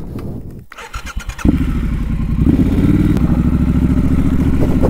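Motorcycle engine starting with a sharp crank and catch, then idling steadily and loud close by while the bike is pulled backwards on a lakeside outing; no talk.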